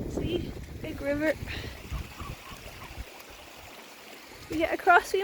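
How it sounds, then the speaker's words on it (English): Steady broadband rush of rainwater running as a stream through a field outdoors, with wind buffeting the microphone and a voice talking briefly at the start and end. "We've established a river running through this field"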